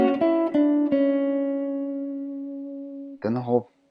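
An etude on guitar: a few plucked arpeggio notes ring out cleanly, then one note sustains and decays for a couple of seconds before a brief, separate tone at the end, played alone.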